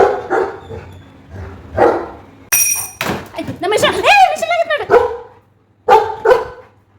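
A pet dog barks in a home, a few sharp, loud, close yaps and yips in quick bursts mixed with people talking and household thumps.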